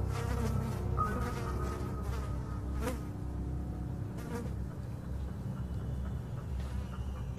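Several flies buzz steadily and continuously in the background, a dense droning hum that stays at an even level throughout with no voices.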